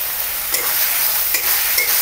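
Chili powder and spices frying in oil give a steady, bright close sizzle with a few soft stirring scrapes, loud and continuous with no speech.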